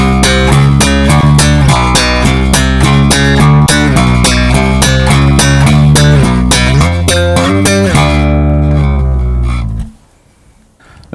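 A funk bass guitar mixes thumb thumping with index-finger plucking in a busy, punchy line. The notes come loud and close, then stop abruptly near the end and leave a faint decay.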